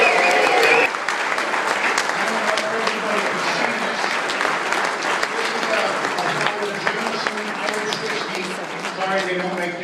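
Audience at a pararescue (PJ) reunion awards event breaks into sustained, loud applause for an honoree receiving a Godfather award, steady clapping filling the room throughout with faint crowd murmur underneath.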